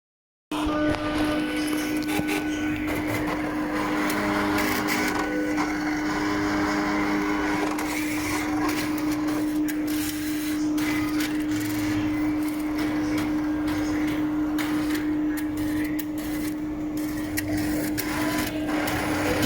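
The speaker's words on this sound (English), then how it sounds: "You can see now that the machine is scanning the reagents one by one." A Cobas e411 laboratory analyzer scanning reagent packs in its rotor, giving a continuous mechanical whir with a steady tonal hum and intermittent clicks and ticks, loud and close throughout.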